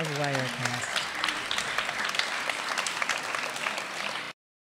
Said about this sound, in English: Applaud the poet, not the score.